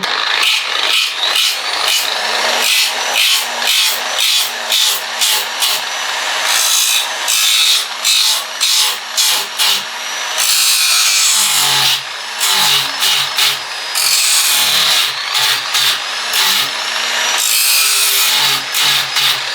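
Coarse 40 grit sandpaper rubs over a surfboard fin base in rapid, loud back-and-forth strokes, harsh and scratchy, with brief pauses between bursts and no talking.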